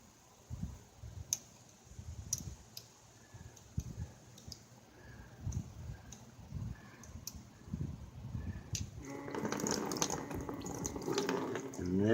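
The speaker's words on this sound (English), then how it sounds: "And there goes the coolant." Coolant starts pouring from a 2013 Beta Evo 250 4T motorcycle's radiator, a faint splashing trickle building near the end after scattered clicks and taps of work on the bike.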